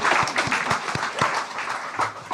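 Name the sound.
church congregation applauding the choir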